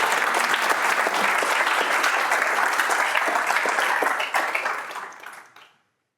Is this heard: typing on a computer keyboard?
no